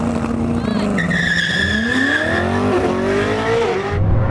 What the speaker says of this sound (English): now it's time to raise the stakes and race over a standing half mile